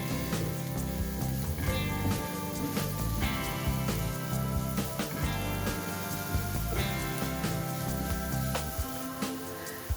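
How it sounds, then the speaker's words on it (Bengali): Chopped medium onions fry lightly in a pan, a continuous dense sizzle like rain on a surface with crackles and scattered clinks, steady and close throughout. "এবার পেঁয়াজগুলোকেও হালকা করে ভেজে নেব।"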